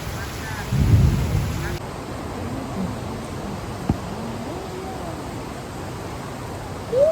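Steady hiss of rain fills the scene, with a brief louder rumble early on and faint voices murmuring in the background.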